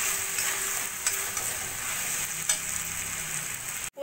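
Okra fries in a pan with poppy seed and cashew paste, giving a steady close sizzle broken by a few scraping stirs, with no talk.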